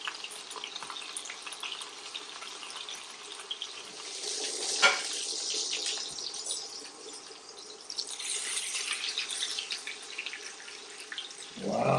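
Rack of lamb seasoned with salt, pepper and garlic searing in a hot pan, a steady broad sizzle running throughout at moderate level, with a brief sharper flare midway and no talk.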